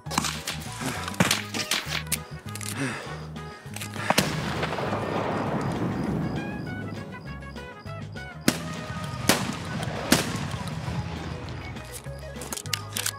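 Shotgun blasts in Escape from Tarkov on the Customs map, a run of sharp, loud booming shots at uneven intervals, some close together and some spaced apart, with a brief lull of rumbling echo in the middle.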